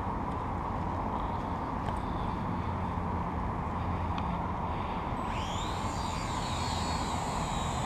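Toy quadcopter drones, a Syma X8C and a WLToys V686G, buzz with a loud, steady rotor drone that rises sharply in pitch partway through as they spin up and take off, with no talking.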